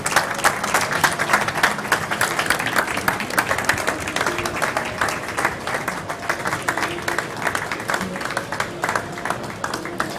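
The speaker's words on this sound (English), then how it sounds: "Big applause, please, for Lisbon." An audience at an award ceremony for a 5G quality-of-experience benchmark in Europe claps loudly and steadily throughout, a dense wash of applause with no pauses.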